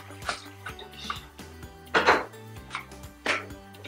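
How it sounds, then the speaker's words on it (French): Tomatoes are crushed together with a garlic, ginger and pepper mixture for a gombo sauce, giving sharp knocking and squashing thuds at an uneven rhythm, close and clear. "J'écrase les tomates avec mon mélange d'ail et de gingembre et de poivre"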